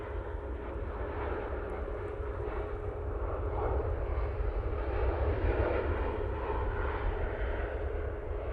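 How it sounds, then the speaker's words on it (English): A Ryanair Boeing 737-800 touches down at Manchester Airport, its engines a steady, broad roar heard from a distance, holding an even level throughout with no voices. "Ryanair 737-800 now touching down."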